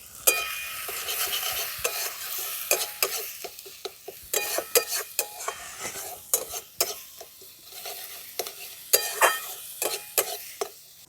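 Turmeric, cumin and coriander powder are sautéed in a pan, a spoon stirring and scraping in repeated uneven strokes over a soft sizzle, with occasional clinks of utensil on metal.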